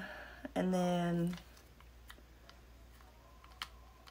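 Small clicks from the lock on a Scentbird perfume travel case come close and quiet, along with a brief buzzing rasp as the mechanism moves, then a few light taps.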